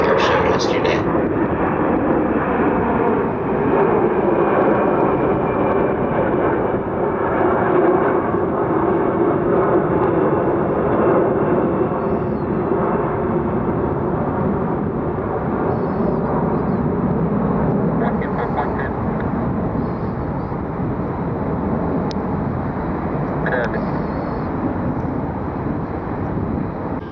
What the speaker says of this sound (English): Got a KC-135 heading out to Altus Air Force Base